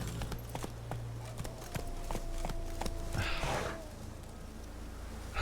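Roach, the horse in The Witcher 3, clip-clops at a walk with soft, steady hoofbeats. Faint game tones and a brief breathy snort or sigh come through midway.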